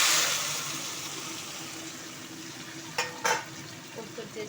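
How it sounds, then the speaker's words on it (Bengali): A paneer mixture dropped into hot oil gives a strong sizzle at first that slowly fades to a quieter frying hiss, with two sharp spatula scrapes or knocks against the pan partway through and a few soft clicks afterward. "এবার আমি ডাইরেক্ট এই গরম তেলটার মধ্যে দিয়ে দেবো"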